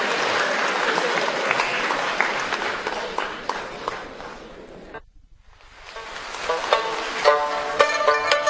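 Audience at a Suzhou Pingtan storytelling performance breaks into dense applause that fades to a brief lull, then scattered claps return with plucked string notes starting up.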